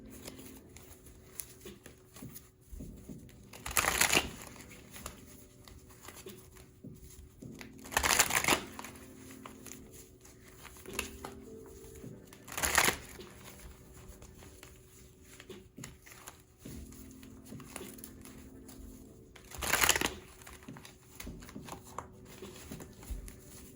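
Deck of tarot-style cards shuffled by hand in short bursts, several crisp riffling rustles a few seconds apart over a quiet background.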